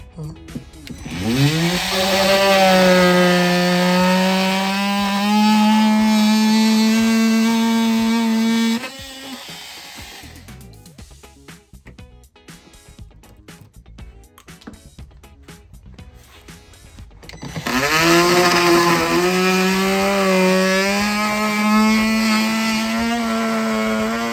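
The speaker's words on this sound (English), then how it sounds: "You're gonna cut all the way through the mounting tabs like I did there" A high-revving power saw cuts through plastic speaker mounting tabs on a Harley-Davidson Street Glide in two long bursts separated by a quieter pause with clicks and handling noises.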